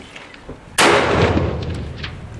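A single loud, close gunshot is fired at falling plate targets, with a sharp crack followed by a long, fading echo and no other sounds.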